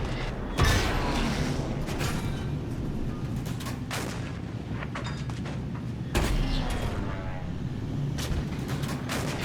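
Tank combat in a video game: heavy impact booms near the start and again around six seconds, with a rumbling engine and mechanical creaks continuing between the hits.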